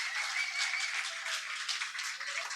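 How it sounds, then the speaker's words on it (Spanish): Faint, steady applause from an audience at a science talk event in a theatre, a continuous wash of clapping with no voices over it. "un aplauso por favor para el Teatro Pop-Up que siempre nos acoge"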